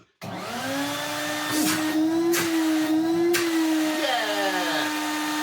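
A Numatic vacuum cleaner switches on and runs with a loud, steady motor whine that holds constant for several seconds, with faint rustling and handling noises over it.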